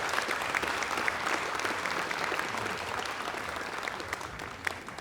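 Sustained audience applause at a stage show during a festival funfest, a dense, even wash of clapping from a crowd holding steady for several seconds.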